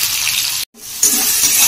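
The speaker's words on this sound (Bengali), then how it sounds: "এটা ভাজা হোক।" Capsicum frying in a pan alongside half-boiled meat for a thin curry, a steady bright sizzle that cuts out briefly before resuming strongly.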